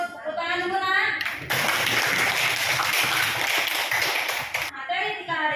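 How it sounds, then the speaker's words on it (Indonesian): A classroom of students claps hands together in a dense burst of about three seconds, with a teacher speaking briefly before and after. "Tepuk tangan dulu, nak."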